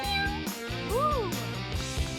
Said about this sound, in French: Le chat veut de l'attention.